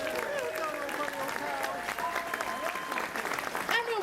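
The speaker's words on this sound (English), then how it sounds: "give yourselves a big round of applause this time" A packed hall audience at a comic con cosplay masquerade applauds loudly and continuously, with cheers and whoops, while voices call out over the clapping.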